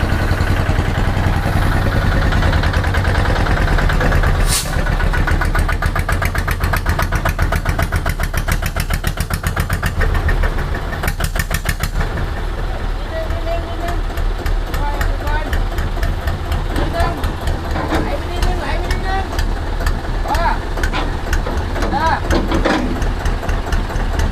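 Kubota ZT155 engine running on a Thai four-wheel-drive dump rot e-taen farm vehicle, a loud, close, steady rapid diesel chugging that continues throughout, with a sharp bang near the start.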